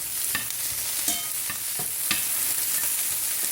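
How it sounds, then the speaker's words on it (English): Chopped mushrooms sizzling in a pan with golden onions and peppers for a chicken vegetable frittata, a steady hiss broken by several utensil scrapes and taps, close and without talk. "I'm going to add a half a cup of chopped mushrooms."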